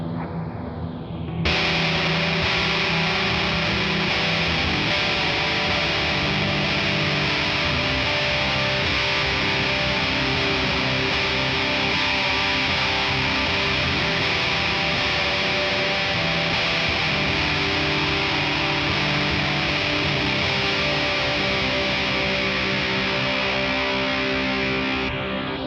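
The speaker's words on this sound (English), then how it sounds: "put a fuzz in front of it again" Guitar runs through a fuzz pedal into a Source Audio Encounter pedal, giving one long sustained fuzzy chord that starts after a brief swell and holds thick and loud with shimmering effects before fading.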